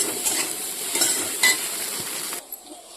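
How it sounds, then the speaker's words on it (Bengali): Nutrela soya chunks fry and sizzle steadily in a pan, with a few stirring scrapes and light utensil clinks, fairly close and uninterrupted by talk until the sizzle drops away near the end. "ততক্ষণে আমি নিউট্রেলাটা ভেজে নিই।"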